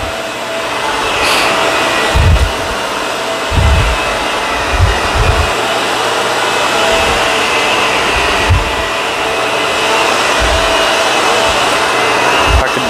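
A vacuum cleaner runs continuously over a hair-filled hallway carpet, its loud steady motor whine joined by repeated low thumps and bumps as the head is pushed back and forth, with no talking.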